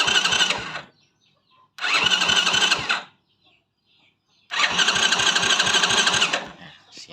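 Honda Wave 100 motorcycle engine cranking and catching three times with a battery hooked up, each burst a loud, steady mechanical chug of about a second, separated by short silences.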